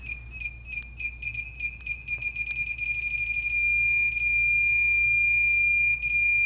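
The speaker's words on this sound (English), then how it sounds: "the beep speeds up as you get closer to alignment." Alignment beeper on a Solaris infrared barrier, its short beeps repeating faster and faster until they merge into a continuous steady tone, loud and close against a quiet background.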